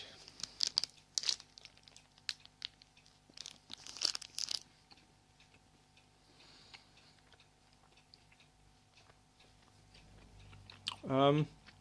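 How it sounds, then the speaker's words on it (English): Someone chews a ZipFit uncoated chocolate energy bar close to the mic, with soft crunching and wet bites in irregular bursts, quieter pauses between them, and a short voiced sound at the end. "Excuse the chewing."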